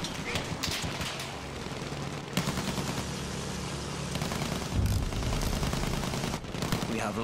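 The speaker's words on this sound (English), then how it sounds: "What are you shooting at, dude?" Dense, continuous gunfire in the World War I shooter Battlefield 1, rapid automatic bursts layered with single shots, loud and close throughout with a few heavier thumps near the middle.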